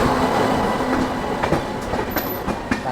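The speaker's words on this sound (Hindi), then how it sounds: "और यहाँ पे कोई ट्रेन आती है" A train rushes past at night near Kanpur station: loud, continuous rumble and rattle with rhythmic clickety-clack wheel beats and a brief high squeal.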